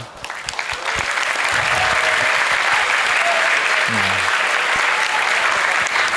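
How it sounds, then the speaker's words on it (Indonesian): A large crowd at a Ramadan university gathering claps loudly and continuously, a thick sustained wall of applause with a brief voice heard midway. "Nah, tepuk tangan."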